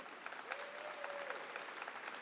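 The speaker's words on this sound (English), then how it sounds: "let's give a big round of applause to my friend Karen Bass." Audience applause at a transit agency state-of-the-agency press briefing, a steady wash of many hands clapping at moderate, distant level with a brief whistle, no talking.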